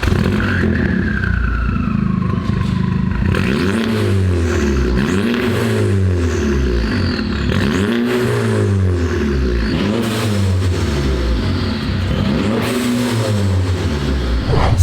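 A Volkswagen Scirocco engine revs repeatedly in a steady cycle of rising and falling pitch, loud and close, with no voices, on its stock tune without pops and bangs.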